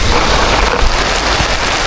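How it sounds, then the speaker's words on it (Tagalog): Heavy rain pouring down during an outdoor fishing trip, a loud, dense, unbroken hiss of drops hitting surfaces close by, with no voices. "Ulan lang po, ulan."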